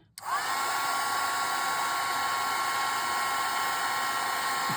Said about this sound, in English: But we're going to go ahead and hit this with the heat gun.